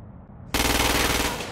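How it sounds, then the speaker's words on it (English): Gunfire from Crackdown 2 breaks out in a sudden loud burst of rapid automatic shots, dense and sustained, after a brief quieter lead-in. "Use precision targeting to shoot the freak's head or legs"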